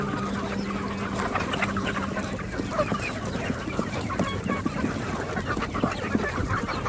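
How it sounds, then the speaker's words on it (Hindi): Sonali farm chickens eating leftover chopped roti: a dense, continuous chorus of clucking and squawking from many birds close by, with no clear pauses. "रात की बची रोटी को हम लोग मुर्गियों को दे दे रहे हैं।"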